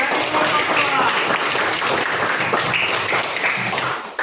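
Classroom applause from students after a lesson on halal and haram food, a steady wash of clapping with some voices mixed in.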